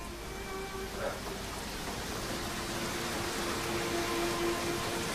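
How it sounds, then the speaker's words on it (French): Rain pours down in a continuous, even wash of hiss at moderate loudness, with a faint tonal hum beneath and no clear talk. "Ça y est, il pleut."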